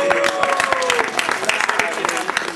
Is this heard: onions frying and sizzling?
no